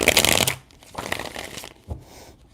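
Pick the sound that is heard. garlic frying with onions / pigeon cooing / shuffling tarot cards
shuffling tarot cards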